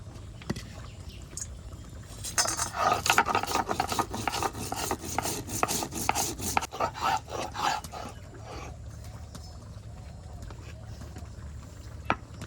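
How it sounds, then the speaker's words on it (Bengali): Roasted cumin seeds ground on a grinding stone: a quiet start, then a rapid run of rough rasping strokes for several seconds, which slow and fade back to a faint background. "তরকারিতে দেওয়ার জন্য ভাজা জিরেগুলো বেটে নেব"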